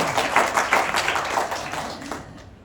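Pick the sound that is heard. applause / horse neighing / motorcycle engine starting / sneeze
applause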